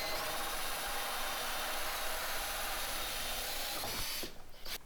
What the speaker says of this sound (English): that'll hold everything in place while we drill the last hole